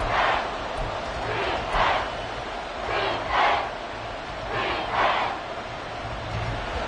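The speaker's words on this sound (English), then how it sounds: "The crowd getting into it as we come up on a big 3rd down." A football stadium crowd roars in rhythmic swells ahead of a big third down, the cheering rising and falling in repeated waves while a commentator keeps talking over it.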